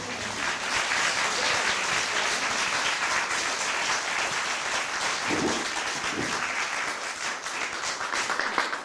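Sustained audience applause at an RSA participants' stage event, dense clapping throughout at steady volume with a brief voice emerging midway.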